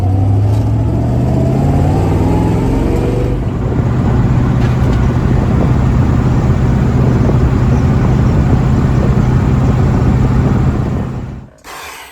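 An old station wagon with a worn front end revs up and pulls hard on a four-lane highway, its pitch climbing before settling into a steady, loud highway drone with constant road noise.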